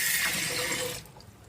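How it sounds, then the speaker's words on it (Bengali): Running water splashes steadily as water lily flower petals are rinsed under a tap, loud and close for about a second before cutting off to quiet. "ফুলগুলোকে ভালো করে ধুয়ে নিতে হবে"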